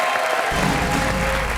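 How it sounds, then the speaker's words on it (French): Studio audience applause erupts on a French television talk show for a politician, a dense burst of clapping that starts abruptly and holds steady and loud to the end. "Vous pouvez l'applaudir."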